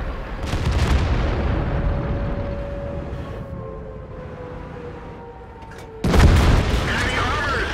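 High-explosive shell fired at an IS-7 tank in the video game World of Tanks: a loud booming blast with a long rumbling tail fading over several seconds, then a second sharp heavy impact, with a voice talking over it.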